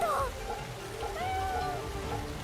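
A small cat in the video game Samurai Remnant gives a couple of short, faint meows over soft game background sound.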